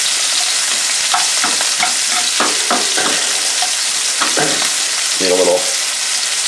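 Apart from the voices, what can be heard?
green beans frying in butter in a pan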